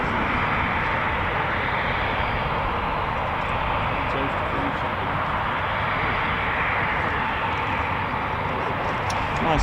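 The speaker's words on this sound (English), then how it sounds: "for this Typhoon, just running in now" A Eurofighter Typhoon FGR4 fighter jet runs in near RAF Coningsby with a continuous, loud broadband roar that holds steady throughout and swells slightly at the end.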